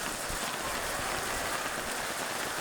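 Heavy rain pounds down steadily at an outdoor boys' lacrosse game, a dense, even hiss with no letup and no voices.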